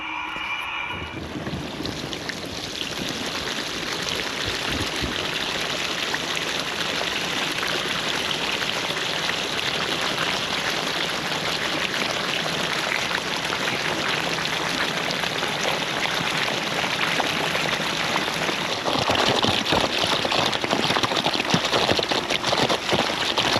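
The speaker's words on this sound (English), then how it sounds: "This water comes out of here, goes down, and irrigates this." Water pours steadily from a ranch irrigation line, making a continuous rushing, splashing wash that stays close and loud for the whole stretch, growing slightly fuller near the end.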